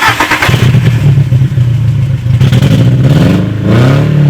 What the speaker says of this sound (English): So it has a custom exhaust pipe, so it's super loud.